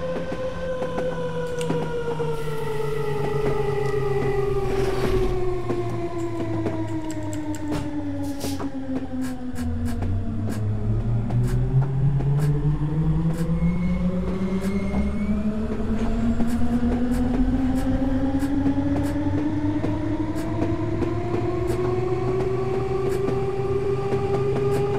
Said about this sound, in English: Guess we can watch this other train come in